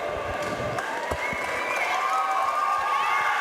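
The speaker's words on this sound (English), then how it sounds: "listen to the deafening roar of the Massachusetts crowd for the Lakeville, Massachusetts native, Jack 50 Cal Congden" Crowd at a Cage Titans FC mixed martial arts event in Massachusetts roaring and cheering for a local fighter, a continuous loud wash of voices with whistles and claps, under an announcer's voice.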